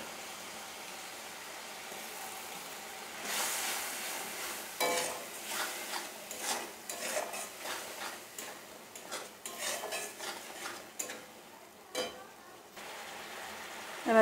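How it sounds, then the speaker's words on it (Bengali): Masala for katla fish kalia sautéed in oil, with a soft sizzle under repeated spatula scrapes and clinks against the pan, close and moderately quiet. "তেল ছাড়া অবধি আমি ভালো মতো কষাতে থাকবো"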